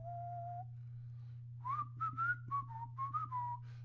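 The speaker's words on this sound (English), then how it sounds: "I guess I shouldn't whistle that too much" A person whistles a melody, a clear held note followed by a run of short, bright notes, close and alone over a low steady hum.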